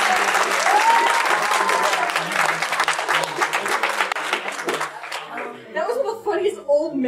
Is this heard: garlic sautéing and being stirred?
no